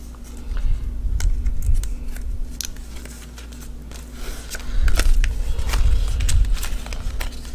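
Scissors snip through excess cardstock while matting a paper craft mini folio, a series of short crisp cuts close by with light rustling of paper between them.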